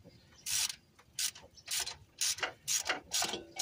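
A ratchet turns a 15 mm socket on an extension during intake work on a 1995/96 GMC 5.7L engine, giving six quick bursts of clicking, each a short rapid run of pawl ticks with brief pauses between, close to the microphone.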